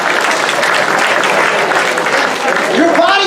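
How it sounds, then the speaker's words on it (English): Audience members over 60 clap their hands at a Green Valley event, a dense, loud burst of applause that fills the whole moment, with a voice rising over it near the end. "Clap your hands if you're over 60."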